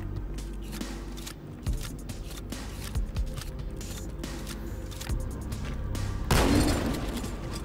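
Gunfire in Halo 2 Anniversary on PC, where a shotgun is among the weapons; sharp shots and bursts crack at irregular intervals over a steady game backdrop, with one heavier blast near the end.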